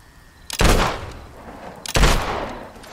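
Two loud gunshot bursts in the Fable 2 video game, each a sharp broadband crack with a short decaying tail, about one and a half seconds apart, heard alone without talk.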